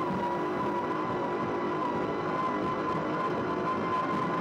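Supercharged Chief engines of a P1 offshore powerboat racing in the 2009 World Championship off Istanbul, Turkey, roar in a loud, steady, unbroken drone heard from on board.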